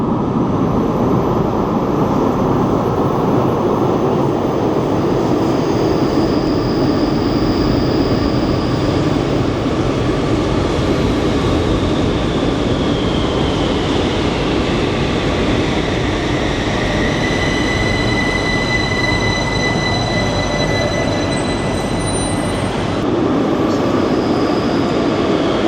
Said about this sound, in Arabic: احنا على الرصيف بتاع المترو